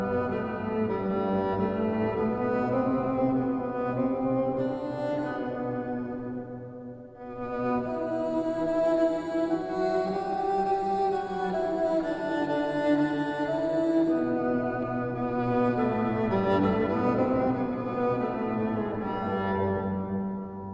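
A violin pitched down an octave through a Sonicware Texture Lab granular processor, giving a deep, cello-like drone under the original line. It is a long, continuous, layered sustain with one brief dip partway through.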